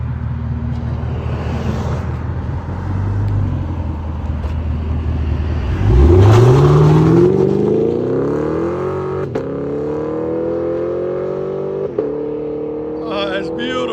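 A convertible Chevy Camaro SS with a 6.2L V8 and Flow FX exhaust pulls away hard from idle, its loud, deep roar rising steadily as it accelerates and moves off, with brief voices over the rumble.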